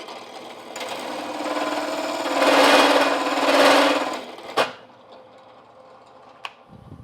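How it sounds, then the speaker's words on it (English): A drill bores into a wooden block being fitted for a wagon vise, a steady rising whir for a few seconds that peaks, then stops with a sharp knock and a brief click in a quiet shop. "So let's get on and get this drilled."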